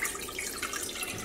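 Water poured from a tap into a cooking pot for cooking farro, a steady soft splashing trickle heard close but faint, with no voices.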